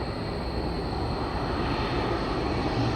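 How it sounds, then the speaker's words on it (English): A steady, loud jet engine roar fills the air as an Air Canada Express airplane passes overhead by Etobicoke Creek Trail, a continuous broadband rumble with no talking. "here comes another plane."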